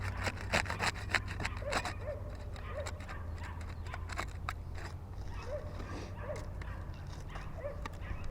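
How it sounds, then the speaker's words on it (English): Putty knife unsealing roof shingles, repeated scraping and prying strokes at close range over a steady low background hum, with occasional sharp squeaks as the sealant lets go. "We'll use the putty knife to unseal the top row here."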